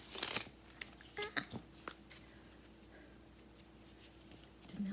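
A deck of prompt cards is shuffled by hand at close range, with a sharp riffle at the start followed by scattered light flicks and taps over a quiet room hum.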